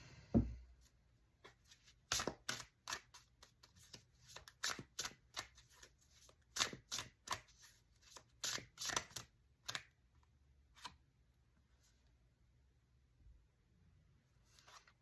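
Tarot cards shuffled close up in a series of crisp, irregular flicks and riffles, clustered in the first ten seconds then thinning out, quiet with no talking.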